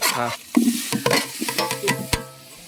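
Chopped tomatoes sautéing for a country chicken curry, with sharp scraping strokes of a ladle in the pan over a hot sizzle, quick and irregular and close, loud at first and easing toward the end.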